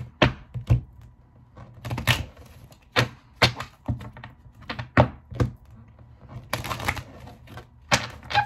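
A deck of oracle cards being shuffled by hand, giving a run of sharp, close riffles and taps in irregular bursts with short pauses between them.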